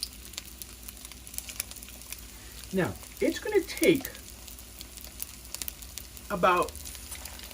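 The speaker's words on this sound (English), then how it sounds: "You can hear the sizzle." Shrimp toast pieces set shrimp side down in hot oil give off a steady, soft sizzle and crackle throughout, with someone talking over the frying at intervals.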